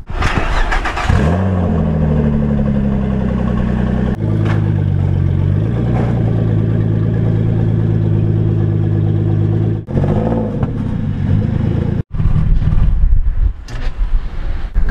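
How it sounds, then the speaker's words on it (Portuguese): A turbocharged Nissan 370Z being unloaded from a trailer starts with a sharp crank and catch, then idles loud and close with a steady burbling drone, punctuated by a few throttle blips, a door thump and brief pauses. "A gente acabou de chegar aqui, a gente tá tirando o carro da carretinha."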